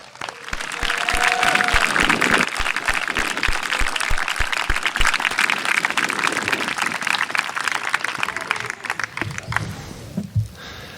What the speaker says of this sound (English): please give our alumni a big round of applause